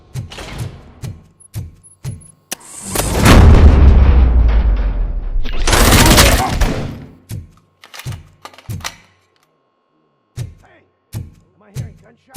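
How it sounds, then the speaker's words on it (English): Gunshots in the video game RoboCop: Rogue City: several sharp thuds and booming blasts come in bursts, with two long roaring explosions in the middle and pauses of near silence between shots. "Am I hearing gunshots?"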